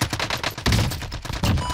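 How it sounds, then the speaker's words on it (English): Gunfire in the video game Warzone, loud rapid automatic bursts with heavy booming shots, dense and continuous at close range. "The guy was shooting you."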